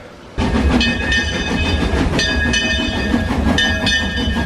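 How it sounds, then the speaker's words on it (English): A theme-park train at Silver Dollar City in Branson, Missouri rumbles past loudly and steadily, with high metallic squeals and rhythmic rattling from the wheels. "we decided we're gonna take the train again."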